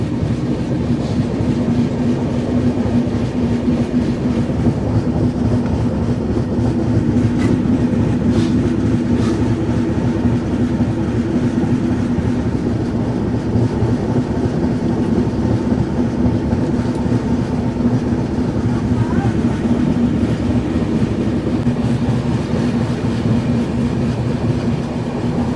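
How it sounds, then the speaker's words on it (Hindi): A Rajdhani Express hauled by a WAP7 locomotive, with a Humsafar Express coach attached, rumbles past loudly and close, wheels clattering steadily over the rails for the whole stretch without pause. "आगे एक हमसफर एक्सप्रेस का कोच लगा हुआ है अपनी राजधानी एक्सप्रेस में।"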